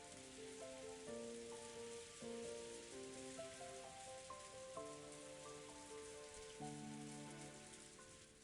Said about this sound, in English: she was wrapped up in the soft sound of the rain.